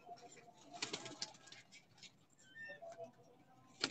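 Pigeon cooing from a rooftop loft of fancy pigeons, faint soft coos and calls with light ticking sounds and murmured talk nearby.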